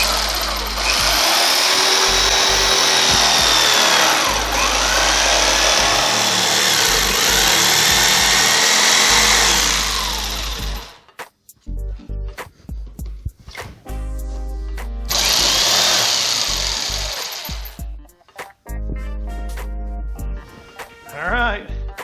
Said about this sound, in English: I'm actually gonna take 2 cuts with my jigsaw here